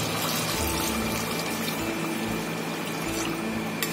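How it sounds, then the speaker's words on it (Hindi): Water is poured into fried masala while mutton shorba is being cooked: a continuous, even splashing pour that runs close and steady for the whole stretch, with no talking. "अब इसमें हम पानी डालेंगे"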